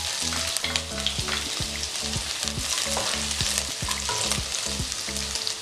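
Two teaspoons of finely chopped garlic frying in a pan over a low flame, a dense continuous sizzle with a rhythmic low pulsing hum underneath, close and steady throughout, no talk.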